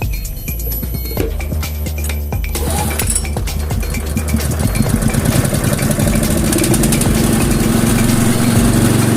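A hand tractor rice-field plough engine starts up and settles into a steady, loud idle, its rhythmic low chugging firing pulses running alone with a faint metallic clink early on.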